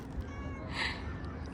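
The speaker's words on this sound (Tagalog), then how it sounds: "Nilalapitan ka ng pusa." A cat meows once, fairly close and clear, at an indoor seaside science center in Kuwait, over a steady background hum with no talk.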